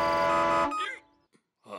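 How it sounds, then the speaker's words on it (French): Cartoon heavy truck blaring its horn loudly in a long sustained honk that cuts off abruptly, followed by brief clattering and a short silence. "Si tu klaxonnes trop fort et que tu montes dans le rouge, tu es éliminé."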